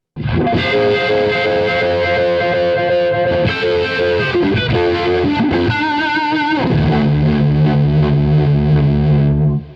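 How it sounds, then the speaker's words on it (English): Electric guitar run through a Univibe's swirling, warbling modulation into thick fuzz, tuned to drop D, sustained notes ringing and clashing, loud and continuous with no talking. "this sound with the Univibe into the fuzz"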